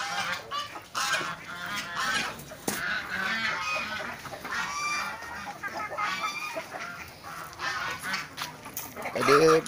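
Ducks quack and chatter noisily alongside clucking fowl, a busy close flock with continuous overlapping calls.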